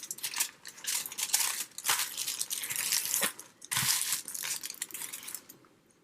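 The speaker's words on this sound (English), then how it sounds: "I'm going to lay this on the aluminum foil." Aluminum foil crinkles and crackles close up in bursts of handling, loud rustles alternating with brief quieter pauses, with no voices.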